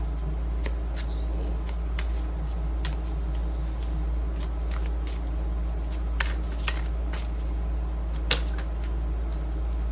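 Tarot cards are being shuffled, producing a scattered series of sharp, crisp card snaps and flicks at irregular intervals over a steady low hum, with no voices.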